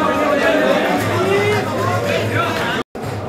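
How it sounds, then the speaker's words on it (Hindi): A large crowd gathered at saint Ratinath Ji Maharaj's samadhi fills the air with steady murmuring babble and shuffling, while someone speaks close over it. "देखिए किस कदर भीड़ उमड़ रही है।"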